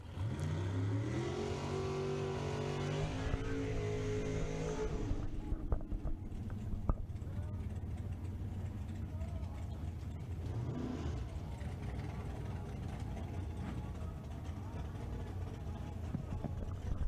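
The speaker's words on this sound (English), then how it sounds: "And across the line burnout here for the wagon." A drag racing station wagon does a burnout at the line: a loud, rising engine rev gives way to a sustained broadband roar of spinning tires and engine, heard up close without talk.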